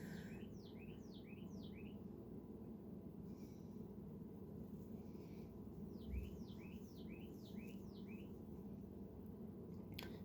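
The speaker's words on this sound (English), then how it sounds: "I hear a bird chirping." Faint bird chirps come in quick descending runs, two bursts of rapid tweets over a steady low hum, with a soft thump between them.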